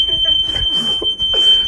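A hotel room smoke alarm goes off with a piercing continuous high electronic tone, heard close and loud while people talk excitedly over it.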